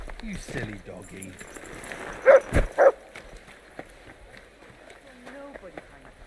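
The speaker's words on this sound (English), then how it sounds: "You silly doggy." A dog in Kingdom Come: Deliverance II, a medieval game, gives a few short barks in quick succession. The barks sit over ambient game noise and scattered footsteps at mid distance.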